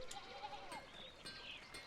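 Sheep in the video game Pentiment bleat faintly several times at a distance over a quiet outdoor ambience.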